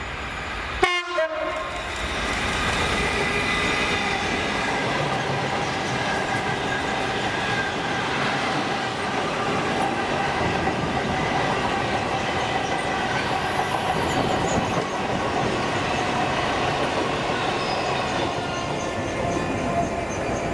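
GBRF freight train passing at Howwood, a sharp horn blast at the start followed by a long, steady rumble of wagons rolling by with clattering wheels and occasional high squeal, close and loud throughout.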